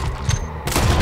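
A quick burst of Red Dead Redemption 2 gunfire, loud close shots with a boom, packed into about a second.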